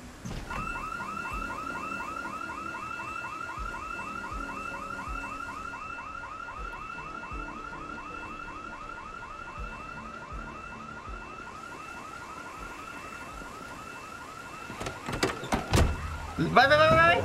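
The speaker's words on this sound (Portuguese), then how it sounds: "Com um belo alarmão tocando" Car alarm blaring in Project Zomboid, a continuous rapid warbling tone that sounds loud and steady for most of the stretch before louder bursts of other noise take over at the end.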